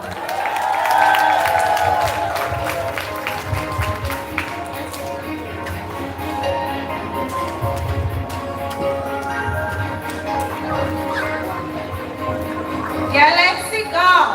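An audience at a basic school graduation ceremony cheers and claps in a steady wash of applause. Voices carry across a large space and swell again near the end.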